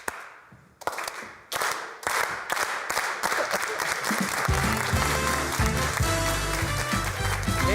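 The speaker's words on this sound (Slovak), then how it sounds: "Nejdeme tlieskať, len sme to dali do finále, ale teraz už môžete." Audience applause at a Slovak comedy show, beginning as a few scattered claps and quickly swelling into sustained, dense clapping from a large crowd that holds steady to the end.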